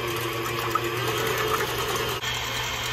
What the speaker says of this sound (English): take your egg whites, pour them into your mixer